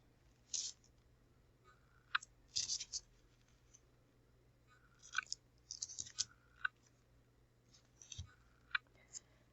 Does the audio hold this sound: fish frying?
no